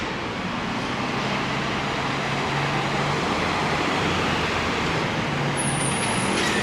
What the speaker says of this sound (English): This is traffic coming off the BQE.